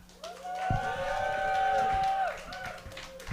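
A live audience at a Weedy Wednesdays show at NXNE cheers and whoops for a contestant, with sustained vocal woos rising over crowd noise and talk.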